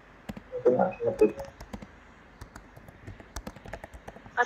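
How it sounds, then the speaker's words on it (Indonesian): Typing on a computer keyboard during an online meeting on healthy living: scattered, irregular key clicks close by, with a brief busier patch early on and quiet gaps between. "Ngetik ya? Mungkin harus ngetik."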